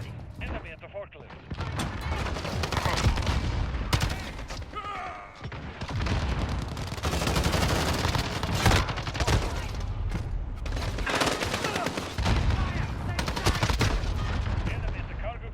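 Rapid bursts of AUG rifle fire in the video game Modern Warfare, loud and repeated across the whole stretch, mixed with explosions and in-game voice callouts.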